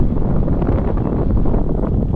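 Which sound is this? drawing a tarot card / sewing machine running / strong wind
strong wind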